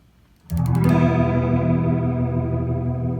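A single sustained guitar chord through a BOSS MS-3 tape-speed effect rings out with a swirling, warbling rotary modulation that gradually slows as the pitch drops an octave, the tone deepening as it holds.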